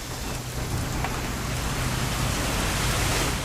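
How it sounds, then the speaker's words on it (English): Steady rain falls in the video game What Remains of Edith Finch, a continuous dense hiss of drops at an even, fairly soft level throughout, with no voices. "It's gonna rain the whole weekend,"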